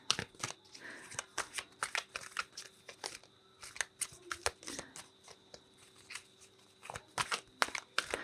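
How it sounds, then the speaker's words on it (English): Tarot affirmation cards being shuffled by hand, a close series of crisp riffling snaps and papery flutters in quick irregular bursts, with no talking. "I'm going to pull you an affirmation card, Pisces."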